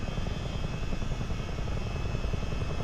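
A CH-47D Chinook helicopter flying in a flight simulator game, a steady, loud rotor drone with a dense low throb and a whining engine hum, no voices.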